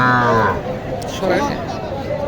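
Cattle, including Gir and Sahiwal breeds, low and moo amid the din of a busy livestock market in Naogaon, with crowd chatter running underneath throughout.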